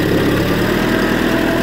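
A Farmall B tractor engine runs at a steady, close, loud idle with a constant low rumble and no talking.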